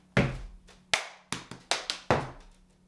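During a body-ripple dance step, a dancer's hand clap comes as one of a string of about seven sharp, close slaps and thuds spaced irregularly in a quiet room, each decaying quickly.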